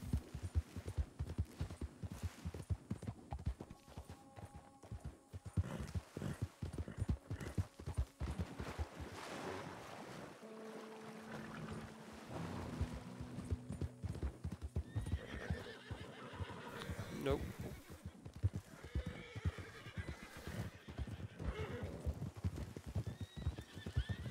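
Red Dead Redemption 2 horses clop along with constant hoofbeats while several neighs and whinnies ring out over a long stretch, moderately loud and close.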